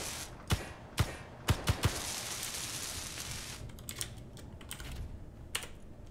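Someone types on a Hermes P1 computer keyboard, with a handful of sharp separate keystrokes at first and then lighter, quicker clicking over a steady background hiss, close up with no talking.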